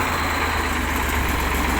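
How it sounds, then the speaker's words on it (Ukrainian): A steady, low engine idle rumbles on without change from a T-150 wheeled tractor during ploughing, a constant mechanical drone close by with no talking over it. "трактор працює, можна сказати, на холостих"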